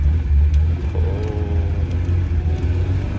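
A Tofaş car fitted with a modified dual-tip straight-pipe exhaust rumbles loudly up close, a deep steady low-pitched drone with a slight engine-note change partway through.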